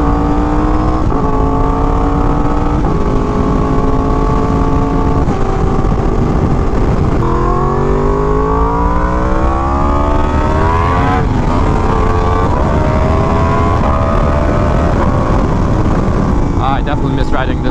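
Ducati V4S motorcycle ridden hard, its engine loud and close, revving up and down in continuous rising and falling sweeps with wind roar beneath and a voice talking over it.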